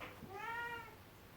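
A domestic cat gives a single clear meow, short and moderately near, in a quiet room.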